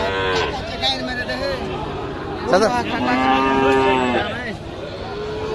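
Cattle moo repeatedly at a busy cattle market, with one long low call overlapping another, close and loud against a murmur of crowd voices.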